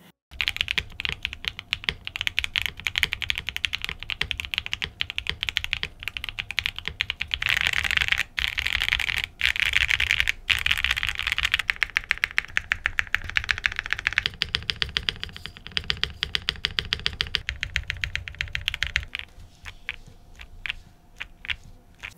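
Steady mechanical keyboard typing with a soft, rounded, muffled clack from plate foam damping the ping, on a titanium Damascus-weight Sunset80 keyboard, keys pressed in quick continuous bursts, close up and with no talking.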